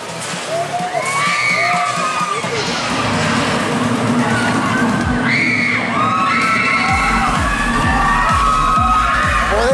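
Excited children shout and scream over a loud crowd at the El Relámpago ride, Irtra Petapa amusement park, Guatemala City, with whoops and cheers rising and falling continuously throughout.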